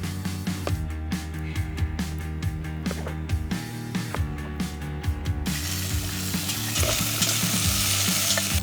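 Potatoes frying in a pan at a campsite on a canoe trip, a constant loud sizzle with rhythmic scraping and stirring clicks, the frying hiss swelling near the end.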